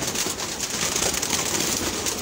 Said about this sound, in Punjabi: ਦੇਖੋ ਕਬੂਤਰ ਪਏ ਨੇ ਨਾ